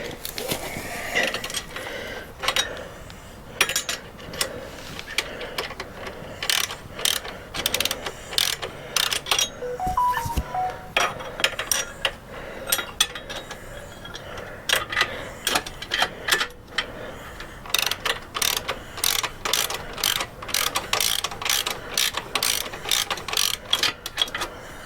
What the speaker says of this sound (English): I just can't get a bite on that nut on the back side. I can't get the wrench in there